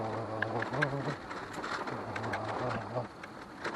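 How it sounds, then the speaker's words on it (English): A cicada buzzes nearby in short droning bursts that stop and start, over a quiet outdoor background. "it's a cicada"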